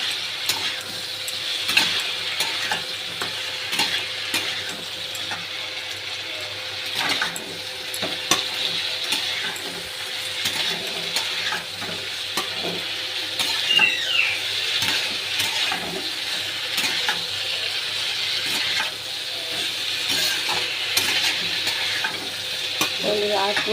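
Spices with Kashmiri chilli powder and a splash of water sauté in a pan, giving a steady, close sizzle with scraping stirring sounds throughout and no voices.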